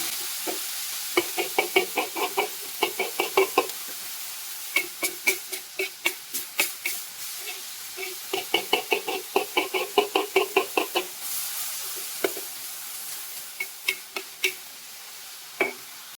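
A spatula scrapes and knocks against a wok while stuffed pork, tofu and coriander are stir-fried, in rapid rhythmic bursts of clatter over a steady sizzle, close and fairly loud, with no talking.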